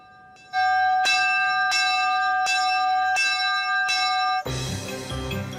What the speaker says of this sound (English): The dinner bell signals the end of the workday.